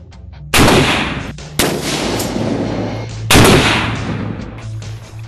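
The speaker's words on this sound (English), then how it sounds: "We've got some other things that we're doing with .50 cal AP rounds," .50 caliber armor-piercing rounds fired in testing, heard as three loud, separate gunshot blasts, each with a long rolling echo tail, spaced over about five seconds.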